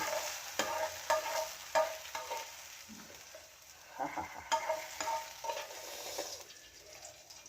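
Whole spices tempering in hot oil for a Kerala prawn curry, a steady close sizzle and crackle with stirring scrapes across the pan, swelling in bursts and easing between, with no voices.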